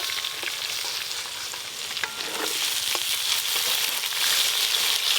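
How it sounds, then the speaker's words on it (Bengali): Potatoes and pointed gourd sizzle steadily in hot oil in a pan, a continuous bright crackling hiss with occasional stirring scrapes, no one speaking. "একসঙ্গেই ভাজা হয়ে যাবে ভালো করে আলু আর পটল।"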